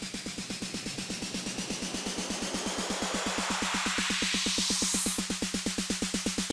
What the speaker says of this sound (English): Some effects like up filters, down filters, a snare roll as well, which sounds like this.